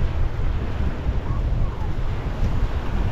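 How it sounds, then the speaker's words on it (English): Wind at Rutherford Beach, Louisiana buffets the microphone in a steady, loud low rumble, with faint surf behind it and no talking. "I hope y'all can hear me with this wind."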